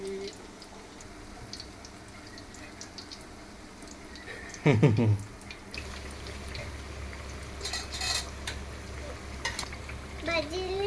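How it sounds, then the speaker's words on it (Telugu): Raw banana bajji frying in oil makes a quiet, steady sizzle, joined partway through by a short clatter and a low hum. Utensils scrape and clink near the end. "దోరగా వేయించుకోవాలండి"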